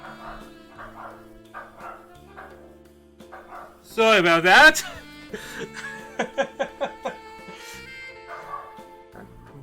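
A pet dog barks a few loud, close yips in a short burst, then a run of quicker barks, while someone talks and chuckles around the noise.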